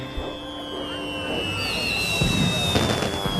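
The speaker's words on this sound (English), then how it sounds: "arrived at the carnival as the fireworks began" Fireworks at a carnival in a Thomas & Friends cartoon: whistling rockets rise and then burst and crackle, building louder toward the end.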